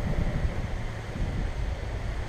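Strong gusting wind of around 50 mph buffets the microphone during a DJI Mavic 2 Pro drone flight, a steady loud low rumble with no voices.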